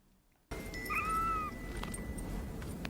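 A single drawn-out cat meow, clear and close, from a scene in an Austin Powers film, rising from quiet room tone and standing alone without talk.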